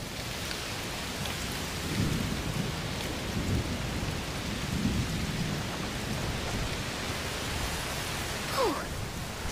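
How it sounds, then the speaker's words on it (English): Steady heavy rain with low rumbling thunder fills a stormy scene in the video game A Plague Tale Requiem, a constant wash of noise with a few faint swelling rolls. "It's raining a lot."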